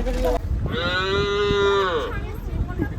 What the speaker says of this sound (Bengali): গরু ডেকে দিল